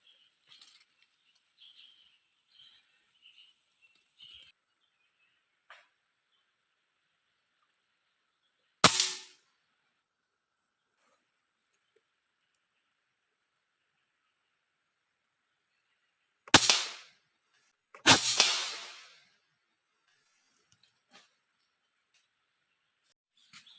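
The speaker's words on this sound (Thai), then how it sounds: "เอ้าถือว่าเฮามานั่งเฝ้ากกฝาดก็ได้ยิง นกเขียวไปตัวหนึง" Outdoor PCP air rifle, an M4, firing at birds: three sharp, close cracks spaced apart, with faint bird chirps between them.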